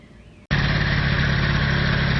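A car engine runs with no exhaust fitted, starting abruptly after a short lull and settling into a loud, raw, steady idle with a rough, throbbing low-end rumble throughout.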